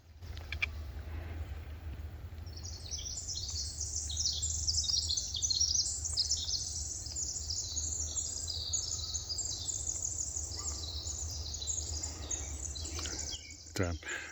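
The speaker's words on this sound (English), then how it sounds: "definitely lots of birds singing" Many birds sing and chirp on a quiet forest trail near Issaquah, Washington, as a faint, busy chorus of high trills above a low rumble of background noise.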